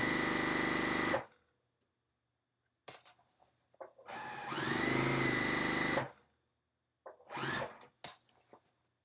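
A sewing machine runs in bursts while stitching a 5/8 inch seam: a steady whirring run of about a second, a brief pause, a longer run of around two seconds, then another short burst, all close and clear.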